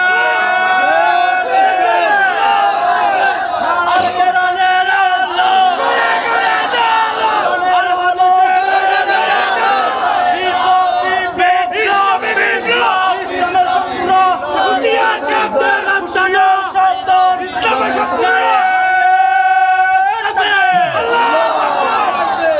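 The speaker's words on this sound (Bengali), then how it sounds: "দুহাত উঁচু করে আল্লাহকে একটা স্লোগান দিয়ে দেখান" Large crowd raising a loud, sustained religious chant at a gathering in Chattogram, many voices roaring together in repeated surges with no pause.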